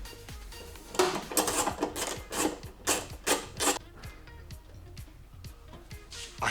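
A small hand wrench works loose a part on a 2023 Toyota GR86, giving a run of close, sharp metallic clicks and ratcheting knocks in uneven bursts, then fading to lighter taps.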